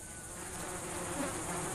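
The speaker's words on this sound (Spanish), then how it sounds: "La abeja melipona, la única que poliniza la flor de la vainilla" A Mexican melipona bee, the stingless species that pollinates vanilla flowers, gives a continuous, even insect buzz, close and moderately loud, with no voices.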